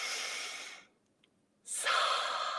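A single slow, deep breath exhaled through the mouth during a guided breathing exercise, a soft airy sigh, then a brief pause and a second breath starting, close and quiet with no talking.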